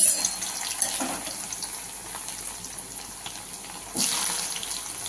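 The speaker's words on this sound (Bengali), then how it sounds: "তেল গরম হয়ে গেছে, আমি গাজরগুলো ভেজে দিচ্ছি" Carrots frying in hot oil in a kadai, a continuous watery sizzling hiss that surges louder near the end as more pieces hit the oil, with no talk.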